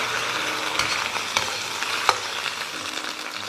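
Shiitake mushrooms braise in a hot pan as water goes in, giving a steady close sizzle with a few sharp clinks and scrapes of stirring. No one talks.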